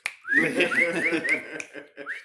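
Someone whistles a series of short rising notes, about five quick upward chirps, close and fairly loud, the way a customer would whistle to call a bartender, with faint background noise beneath.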